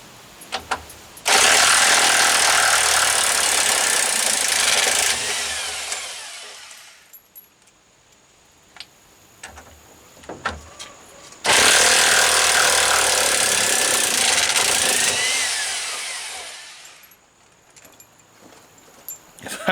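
A corded power tool backs out lag screws in two long, loud whirring bursts, each spinning down at the end, with clanks of metal and handling noises in the gaps between.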